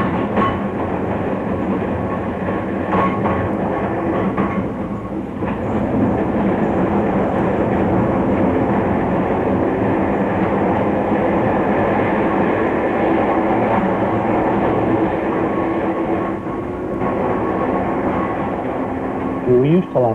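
A tram running on rails, heard from on board: steady rumbling motion noise with rhythmic rail clatter throughout, fairly loud and continuous, with a brief squeal near the end.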